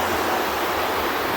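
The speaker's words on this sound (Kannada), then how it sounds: "ಬಟ್ ಸಖತ್ತು ಫಾಲ್ಸ್ ಇದು, ಸೀಕ್ರೆಟ್." Hosadevata Falls near Gokarna roaring as a steady, dense rush of falling water, loud and close, with no other sound over it.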